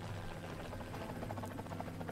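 A helicopter in the video game Renegade Ops gives a steady, loud rotor drone with a low hum, running continuously through the short clip with game effects layered on top.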